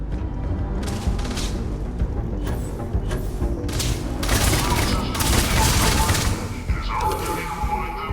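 Submachine gun fire in the video game Starfield, Terran Armada expansion: dense, loud rapid-fire bursts and cracks in close succession over heavy low rumble, with a voice speaking briefly.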